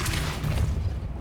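A Depulso spell cast in Hogwarts Legacy lands as a dense, rumbling boom that fills the short moment, loud and close with a heavy low-end roar and no voices.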